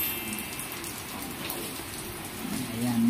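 Rain falls steadily outdoors during a possible storm, a soft, even hiss of drops on surfaces with no voices.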